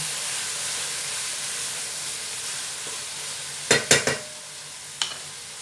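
Chicken adobo with white vinegar just added, cooking in a pan: a steady soft sizzle and hiss runs throughout, broken near the end by a few sharp clanks of a utensil against the pan.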